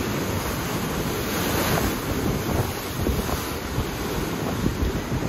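Rough ocean surf at Cala Ratjada on Mallorca, with high waves breaking and rushing continuously while strong wind buffets the microphone in a loud, unbroken roar.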